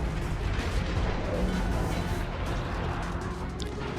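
Secondary guns of the Italian battleship Vittorio Veneto fire in the World of Warships Legends video game, a dense rumble of repeated gunfire and booms over a steady roar of battle noise.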